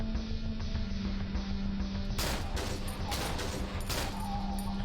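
Glock pistol shots in the game Cry of Fear, a few sharp bangs spread over the last few seconds over a constant loud low hum and background game noise.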